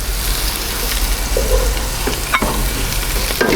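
Garlic and chili flakes sizzle steadily in a pan for homemade BBQ sauce, a dense crackling hiss throughout with a few scraping stirs near the end.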